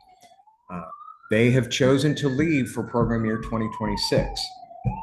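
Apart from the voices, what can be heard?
siren passing outside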